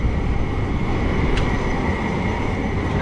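A long tram departing a stop in Utrecht, a loud steady rumble and rolling roar close by with a brief high squeal partway through.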